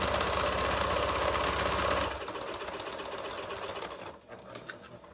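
A sewing machine stitches a fabric face mask, running fast and loud for about two seconds, then slowing to a softer, uneven stitching rhythm before stopping.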